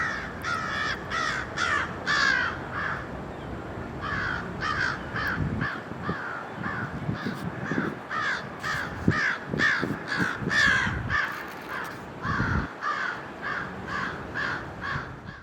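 A flock of crows caws repeatedly near a small island town, loud harsh calls in rapid overlapping bursts, several birds calling at once with brief pauses, alongside low outdoor rumble.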